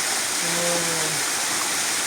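Strong river water rushes in a loud, continuous broadband roar close by, with no pauses; a voice speaks briefly over it.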